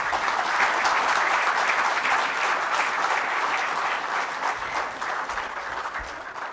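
An indoor audience at a Jharkhand administrative service association meeting applauds loudly and steadily, then the clapping gradually thins and fades toward the end.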